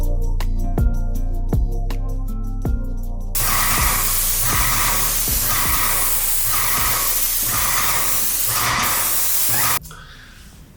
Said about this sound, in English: We'll spray and Backroll these ceilings.